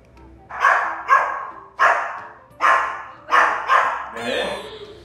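A dog barks six times in a steady series of sharp, close barks while backing away in evident stress, the last bark trailing into a whine-like tone.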